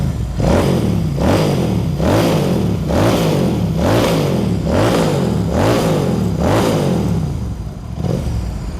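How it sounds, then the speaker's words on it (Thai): A Royal Enfield Interceptor 650 with a Devil aftermarket exhaust revs loudly and close, about eight rhythmic throttle blips that rise and fall in steady succession, with no talk. "เดี๋ยวฟังคลิปท่อกันหน่อยเน"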